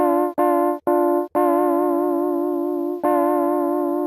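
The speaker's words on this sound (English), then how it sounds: "And we got warble, probably an LFO effect." A sustained synth chord wobbles with a steady warbling LFO pitch modulation, played in a few short stabs and then long held notes.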